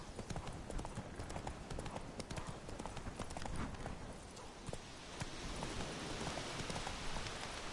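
Roach the horse trotting in Witcher 3, a steady run of hoof clip-clops with rain falling over the whole stretch, fairly loud and with no talk.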